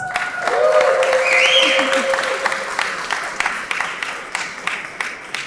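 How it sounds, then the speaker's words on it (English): An audience at a soil health lobby day applauds the farmers, with clapping rising under a voice and a tonal whistle or feedback line early on, then thinning into scattered, distinct claps near the end. "let's give them a big round of applause"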